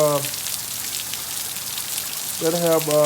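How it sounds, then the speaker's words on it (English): Steady hiss of rain and gusting wind during Hurricane Zeta, a continuous broadband wash running through, with a voice talking briefly at the start and again near the end. "the wind and the rain is definitely picking up"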